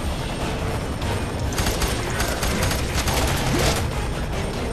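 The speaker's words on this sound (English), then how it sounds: "Stop shooting at me, please." Sustained gunfire in the video game F.E.A.R. 3, a dense continuous fusillade of shots at steady loudness with no talk.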